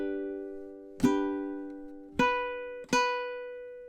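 Ukulele playing measure 2 of a song, three bright strummed chords spaced apart and ringing out softly in a quiet room, with no voices.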